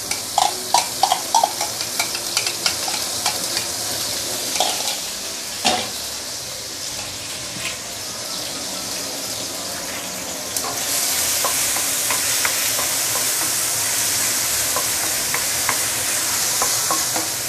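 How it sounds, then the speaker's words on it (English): Blended ginger, garlic and onion sauté in a hot pan for a curry fish head, a steady close sizzle with scraping stir strokes, growing louder and denser partway through, with no talking. "Now you may want to saute this for a minute or two to really bring out the nice fragrance."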